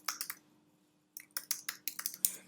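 A computer keyboard clicks with quick, close keystrokes: a short burst, a brief pause, then a busier run of taps at an uneven rhythm, quiet and with no talking.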